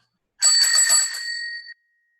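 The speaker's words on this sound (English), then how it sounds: "I tried to warn you with my bell." A single bright bicycle bell ring from a new bike, a sustained metallic trill lasting just over a second, close and alone in otherwise silent surroundings.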